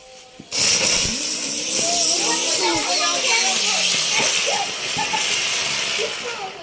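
A loud, steady hiss from a rocket firecracker rushes on suddenly and continues for several seconds, with children's voices and shouts mixed in underneath.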